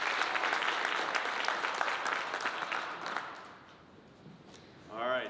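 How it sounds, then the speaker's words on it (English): An audience at a company's quarterly live presentation gives Elvira another round of applause, a broad wash of clapping that thins and fades away, with a voice briefly heard at the very end. "Let's give her another round of applause."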